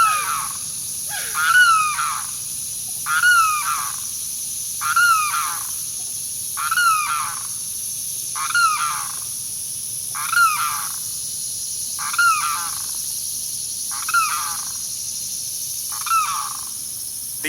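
A limpkin in Texas gives loud, repeated wailing calls, about ten evenly spaced cries roughly every two seconds, each a harsh descending rattle-like scream, close by against a quiet background.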